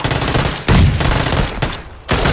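Loud, close bursts of rapid gunfire in the video game PUBG, three dense volleys separated by brief gaps, sharp and harsh with no speech.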